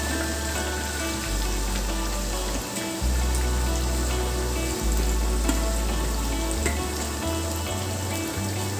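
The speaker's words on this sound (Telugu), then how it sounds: "ఉల్లిపాయలు వేసుకొని గోల్డ్ కలర్లో వచ్చేటట్టు ఫ్రై చేసుకోవాలి బాగా" Sliced onions dropped into well-heated oil for Hyderabadi mutton haleem, a loud, dense, continuous crackling sizzle like heavy rain, with no talk over it.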